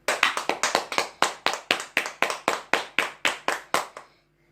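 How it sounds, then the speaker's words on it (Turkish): School students clap in a slow, even unison rhythm for health workers, about fifteen sharp claps close by with no talk, ending abruptly into silence. "Bu alkışlar sizin için."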